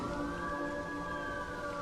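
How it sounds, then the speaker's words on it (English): Police sirens in a scene from the 2003 Daredevil film hold a steady, sustained wail with a slowly drifting pitch that runs continuously at an even level for the full two seconds, with no talking. "You hear that, blind man? The sirens."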